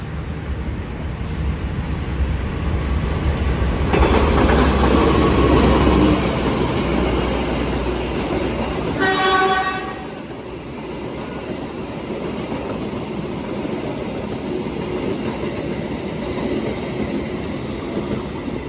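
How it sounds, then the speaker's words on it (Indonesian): A Bogowonto New Generation passenger train rumbles steadily past in Yogyakarta with a continuous clattering roar, loud and close, a high squeal cutting in briefly before the noise eases to a lower rumble. "Nah kan, baru saja lewat kereta New Generation"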